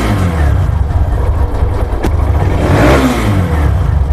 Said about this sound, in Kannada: ನೋಡಿ, ರೈಸಿಂಗು ಕರೆಕ್ಟಾಗಿದೆ, ಐಡ್ಲಿಂಗು ಕರೆಕ್ಟಾಗಿದೆ ಗಾಡಿ